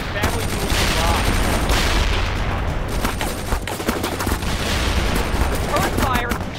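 Sustained, dense gunfire from the war video game The Third World War rattles without pause throughout, loud and close, with voices faintly mixed in.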